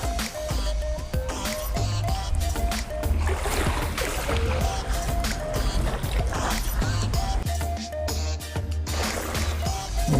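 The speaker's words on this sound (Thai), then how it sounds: "โอ้ก็มีเรือ" A boat on the sea off Bang Saray beach in Sattahip, Chonburi, droning steadily through the evening shoreline ambience, with a continuous loud rumble and busy splashing texture.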